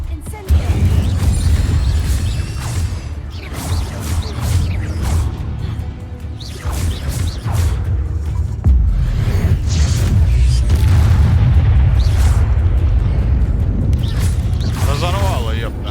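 Spell effects from the Hogwarts Legacy video game as the Incendio fire spell is cast repeatedly, with whooshing bursts and booming impacts in a dungeon fight, under a player speaking throughout.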